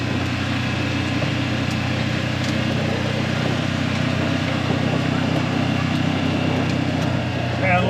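A truck engine runs steadily in four-wheel drive across a Louisiana shop yard at night, a constant low drone that stays loud and unbroken throughout.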